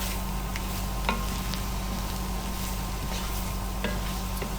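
Flour is stirred into a sizzling pan of butter for a chicken fricassee, giving a steady, soft frying hiss with a few faint spoon scrapes and taps, close and alone.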